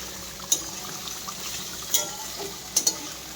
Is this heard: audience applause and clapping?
no